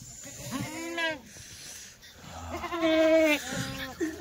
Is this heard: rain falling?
no